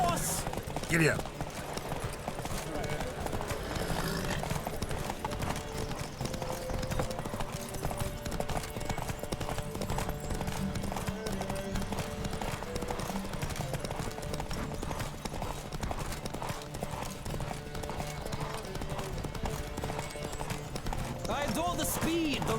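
Rhythmic clip-clop of galloping hooves in The Witcher 3, in Novigrad, runs throughout, with game music and effects layered underneath.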